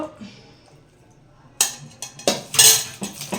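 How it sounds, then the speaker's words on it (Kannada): Tempering (oggarane) is added from a pan to a dish: after a near-silent start, metal clanks and scrapes of pan and spoon ring out close and loud, with a brief hissing burst among them. "ಫ್ರೆಂಡ್ಸ್ ನೋಡಿ ಒಗ್ಗರಣೆ ಹಾಕ್ಕೊಬೇಕು ಈ ಥರ"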